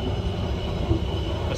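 An economy-class Sri Tanjung passenger train running on the Jogja–Surabaya–Banyuwangi line, heard from inside the carriage as a steady, moderate rumble and hum with faint wheel noise.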